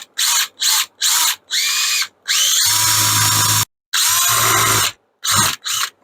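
Power drill boring out an A-arm bushing, several short loud high-pitched bursts early on, then two longer sustained drilling runs with a heavy low drone, stopping and restarting, no talk.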